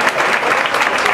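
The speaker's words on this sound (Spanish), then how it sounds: "mucho respeto les pido un nuevo aplauso para el maestro Pepe Valderrute." Loud, dense applause from a crowd, steady clapping filling the whole moment.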